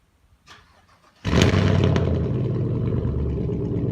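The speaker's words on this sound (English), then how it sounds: "Wow, that was an extremely quiet cold start." A truck engine cold-starts after a brief crank, catching abruptly and settling into a loud, steady idle that runs on alone.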